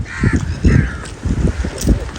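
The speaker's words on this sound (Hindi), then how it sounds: "ये देखो कौवे उड़ रहे हैं" Several crows caw repeatedly nearby, harsh calls overlapping in an irregular rhythm over a steady rush of wind.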